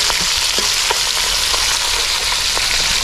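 Fish frying in a pan outdoors at a forest camp, a strong, steady sizzle with scattered crackles and light stirring, up close and with no talk.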